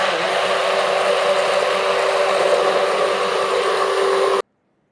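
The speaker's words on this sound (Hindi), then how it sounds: "हैंड ब्लेंडर से हम ये पूरा दूध को फेंट लेंगे।" A hand blender whirs steadily and loudly for several seconds while whipping milk, with a constant motor hum, then stops abruptly into silence.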